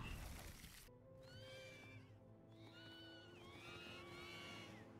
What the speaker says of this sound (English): Sounds like the horses are screaming.